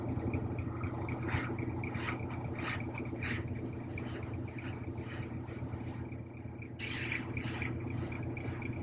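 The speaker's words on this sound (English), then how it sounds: "On these I just spray from the very bottom going up." An airbrush or spray gun sprays paint onto the horns of a quarter-scale Hellboy figure model, a steady close hiss that runs continuously with slight pulses and a brief pause.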